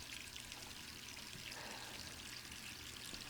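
Tap water left running in the video game Resident Evil 3 Remake, a steady, even pouring hiss that holds unbroken and fairly faint throughout, with no voices.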